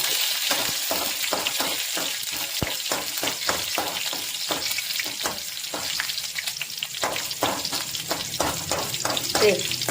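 Sliced shallots and curry leaves fry in hot oil, a close, continuous crackling sizzle broken by frequent sharp pops and stirring scrapes for about ten seconds.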